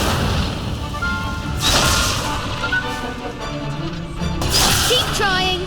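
Incendio fire spell cast in the video game Hogwarts Legacy, two loud whooshing bursts of flame with crackling tails a few seconds apart, mixed with game voices and music.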